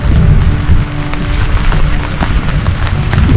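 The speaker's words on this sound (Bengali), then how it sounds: "বেশ জোরে বৃষ্টি পড়ছে" Heavy rain pours steadily at Talberia dam near Mukutmanipur, a dense, continuous broadband wash that stays loud for the whole stretch, with scattered sharper drop impacts and no voices.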